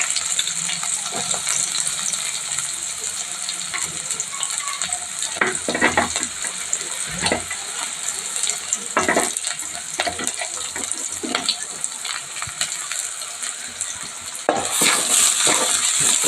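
Onion and green chili pieces fry for curry in hot oil with cumin, mustard seeds and curry leaves, a loud continuous sizzle broken by repeated scraping stir strokes and occasional metallic taps, close up and without talk.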